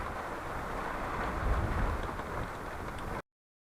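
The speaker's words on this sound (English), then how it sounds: "Rain's at about the same intensity, which, as you can hear, is not too severe." Continuous hiss of rain during Hurricane Ian mixed with wind rumble, moderate and steady, a low swell in the middle, then the sound cuts off abruptly.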